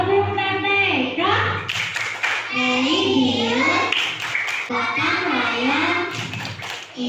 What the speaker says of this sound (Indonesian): tepuk PPK bersama-sama ayo. Tepuk PPK.